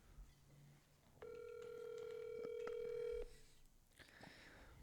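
A phone call being placed: short dialing tones, then a sustained steady ringback tone for about two seconds, fairly quiet, with faint background noise and no talk.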